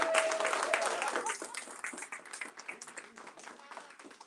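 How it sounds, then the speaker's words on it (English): Audience applause at an outdoor political endorsement rally on a rainy day, loud clapping at first that thins out and fades over a few seconds. "I'd like to give a round of applause for one of the hardest working chairmen in politics"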